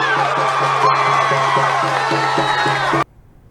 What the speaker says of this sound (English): That cheering went on and on and on.